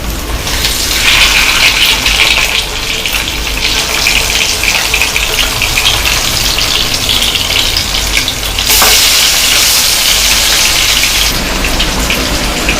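Seer fish pieces fry in a pan of oil with a loud, dense, continuous sizzle and crackle that swells slightly partway through and never pauses.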